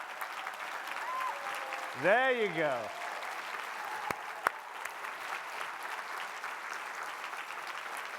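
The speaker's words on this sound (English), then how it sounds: "can we ask them to stand up and give them a round of applause?" An audience applauds at a JFN 2026 conference address, with steady, sustained clapping filling the hall throughout. A single voice briefly speaks over the clapping partway through.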